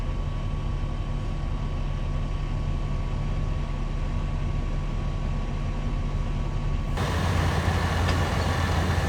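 Tractor engine at full throttle pulling a sledge across a wet field: a loud, steady droning roar that holds throughout, growing harsher and louder near the end as the engine is pushed harder.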